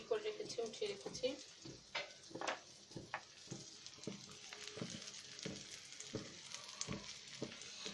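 Onions fry in a pan with a low, crackling sizzle and irregular stirring clatter, while a voice is briefly heard near the start.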